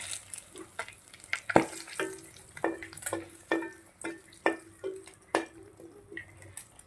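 Dry red chillies and bay leaves sizzling in hot oil, a quiet background fry punctuated by a steady series of sharp spoon-on-pan clinks and scrapes.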